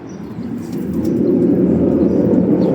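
Low, soft pigeon cooing rumbles steadily and close by, growing a little louder, with faint chirps above; nobody speaks.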